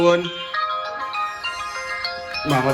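A mobile phone rings with a repeating melodic tone, moderately loud in a home kitchen, while voices begin speaking near the end.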